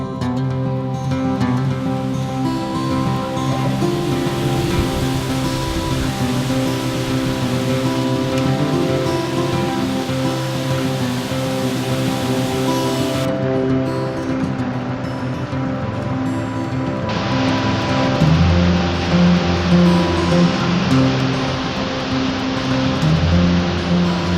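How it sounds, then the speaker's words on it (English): A forest waterfall sends water crashing down in a steady, loud, broadband roar that holds without a break, with a sustained tonal layer running beneath it. "standing next to a waterfall and just being amazed by just the sheer force of water coming down"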